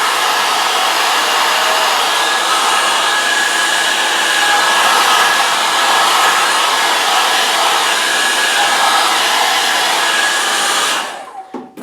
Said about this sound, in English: Just follow me over here to the blow dryer, your hair dryer, and just warm up your flute.